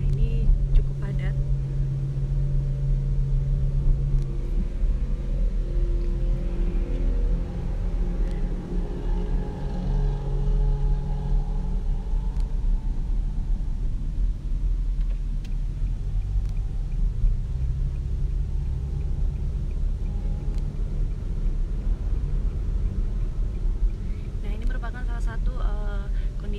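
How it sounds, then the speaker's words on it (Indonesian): Busy road traffic at the Bundaran Waru roundabout toward Wonokromo and Mojokerto, with a loud, continuous rumble of cars and engines passing close by and occasional horn-like tones near the end, and a voice talking over the traffic. "Arus lalu lintas menjelang libur akhir pekan."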